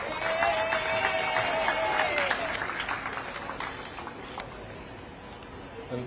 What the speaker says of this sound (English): With a round of applause, please, ladies and gentlemen.